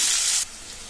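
Thinly sliced onion pieces hit hot ghee with urad dal and cumin, giving a bright, loud sizzle that drops abruptly to a softer, steady fry halfway through the second.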